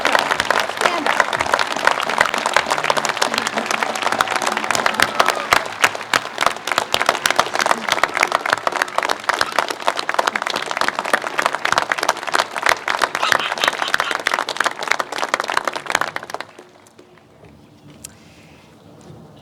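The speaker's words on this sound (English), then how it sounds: "Now, let's applaud. Let's applaud. Stand up." Dense, sustained audience applause fills a college commencement ceremony at Whittier College, steady and loud for about sixteen seconds before cutting off abruptly to near silence.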